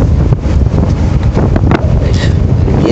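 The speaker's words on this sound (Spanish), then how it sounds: "el viento que hay" Storm wind buffeting a window in bad weather at Calahonda, a loud continuous roaring gust with rumbling low buffets, close and dominating the whole span.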